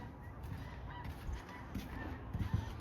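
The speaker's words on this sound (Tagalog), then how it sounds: "Daming ibon." Migrating geese, likely Canada geese, honking in a few short calls, faint and distant against a low outdoor background.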